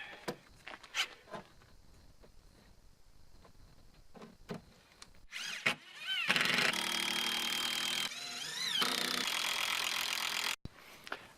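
Longer 2.5 screws driven into a wooden drawing desk with a power driver, starting with scattered knocks and clicks before a loud, sustained whirring drive with rising and falling pitch, cut off abruptly near the end.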